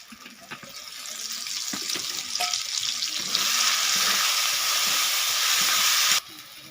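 Tomato curry sizzles in oil in a pan over low heat, a steady close hiss and crackle that swells louder partway through, with a few light clinks, then drops off sharply near the end.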